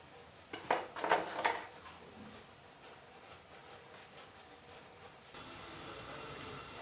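Washed dishes handled and put away at home: a short burst of clinking and clattering near the start, then a quiet background hum with faint handling sounds.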